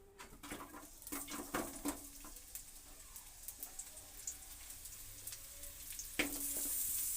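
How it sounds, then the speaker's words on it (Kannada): Oil heating in a pan for a chickpea and raw banana kurma, giving a faint steady sizzle with a few quick clinks of utensils early on and a brighter hiss toward the end. "ಎಣ್ಣೆ ಹಾಕ್ತಾಯಿದೀನಿ"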